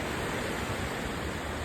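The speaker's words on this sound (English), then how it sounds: "Look at the rocks, waves touching down the rocks." Indian Ocean waves break on rocks below a hotel at Mount Lavinia, Colombo, a dense, continuous wash of surf noise at a steady level with no distinct pauses.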